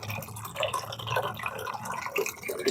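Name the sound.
rainwater dripping into animals' drinking container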